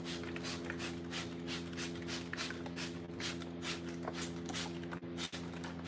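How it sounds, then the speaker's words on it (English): Rapid repeated hissing bursts of a spray bottle pumping water onto a sanded panel, steady and close, over a constant low mechanical hum. "spray bottle, just some water. Get your panel all nice and wet."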